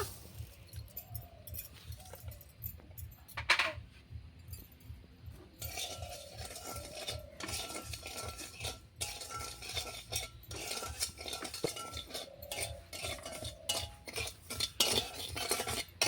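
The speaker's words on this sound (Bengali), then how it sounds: "দেখুন বন্ধুরা, আমি চিনিটা কিন্তু ভাজতেছি" Half a cup of sugar is stirred as it fries in a pan toward a syrup, with a spoon scraping and clinking against metal in a busy, continuous rhythm over a faint hiss, close and fairly quiet.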